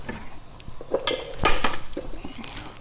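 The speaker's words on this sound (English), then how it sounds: "I'm going to scrape out any bits of butter that I can get out from my container." Spatula scraping butter made from raw milk out of a blender container into a bowl, a few close clinks and scrapes of utensil against container, short and uneven.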